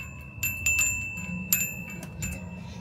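A bell at Nong Nooch Tropical Garden in Thailand is struck several times at uneven intervals. Each bright metallic ring sustains and fades over a low outdoor rumble.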